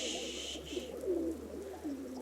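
A rock pigeon coos softly in a few low, rolling phrases, heard faintly against a quiet background hum with no talking.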